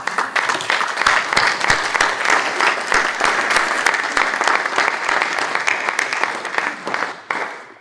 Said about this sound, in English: We've done the burst of applause